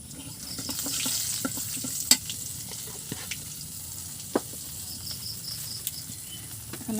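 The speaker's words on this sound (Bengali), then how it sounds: "এবার ভাজিতে জিরে দিলে কিন্তু অনেক মজা হয়, সুন্দর একটা ফ্লেভার বের হয়।" Vegetables frying with cumin seeds and turmeric in a home-kitchen pan: a steady, close sizzling hiss with scattered small crackles and pops.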